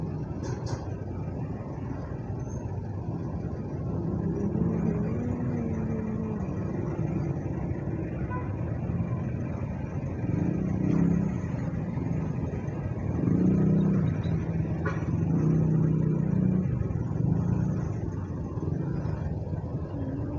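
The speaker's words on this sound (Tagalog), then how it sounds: "Traffic." Road traffic heard from a moving motorcycle in light rain, a steady broadband rumble of engines and tires with a few swelling passes of nearby vehicles, no talk.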